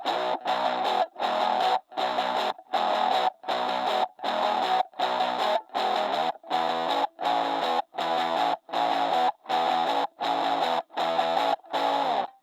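Heavily distorted electric guitar plays chunky repeated chords with short gaps between them, raspy and buzzy through a tiny cheap $40 plastic amp, miked with a Shure SM57.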